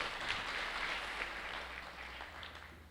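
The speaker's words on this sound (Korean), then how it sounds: "잘 진행해 주신 우리 전현 아나운서께 다시 한번 박수 한번 부탁드리겠습니다" Audience applause at a Seoul citizens' assembly orientation, heard as a moderate wash of clapping over a low hum that eases off slightly across a few seconds.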